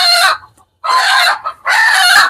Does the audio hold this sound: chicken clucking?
yes